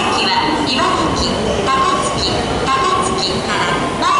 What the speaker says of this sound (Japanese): 電車は8両で到着します。